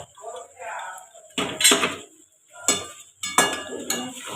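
Meat being fried and stirred in a pan, with sharp bursts of metal clatter and scraping in irregular groups and quieter gaps between.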